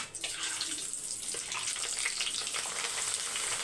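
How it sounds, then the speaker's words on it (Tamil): Appalam (papad) frying in hot oil after vadai, a steady bright crackling sizzle that holds at an even level throughout, close by with no talking. "அப்பளத்தை அதிலே வறுத்துடலாம்."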